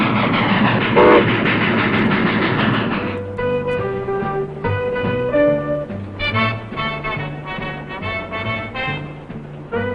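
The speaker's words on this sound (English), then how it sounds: "This train has been held up any number of times" A passenger train rumbles along with a blaring horn at first, then rhythmic clacking and chugging as it rolls steadily onward.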